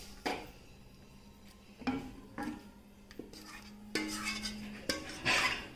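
Drumstick masala curry spooned from a pot into a serving bowl: soft scraping and stirring with a handful of distinct clinks of a metal spoon on cookware, close and fairly quiet, with a faint steady hum beneath.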